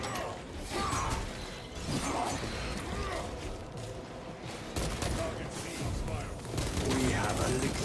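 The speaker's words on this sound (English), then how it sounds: "Reloading." Weapon reloading in Space Marine 2, soft mechanical clicks and metallic ratcheting under steady battle noise and distant gunfire, moderately quiet and continuous.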